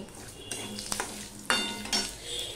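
Chopped onion and ten to twelve crushed garlic cloves sizzle steadily in a hot pan, with bursts of louder frying as the food is stirred and scraped, the spatula knocking against the metal a few times; close and continuous, no talking.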